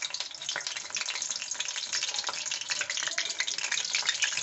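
Water lily stalk fritters fry in hot oil, a dense, even crackling sizzle heard up close and continuous with no talk.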